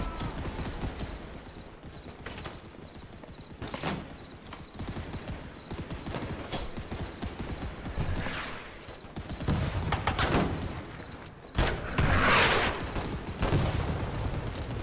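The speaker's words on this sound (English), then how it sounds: "I'm trying to aim at where I see that machine gun firing." Machine gun and rifle fire crackles through a WW1 battle in the video game Holdfast: Frontlines, with scattered sharp shots and bursts over a dense, continuous battlefield din.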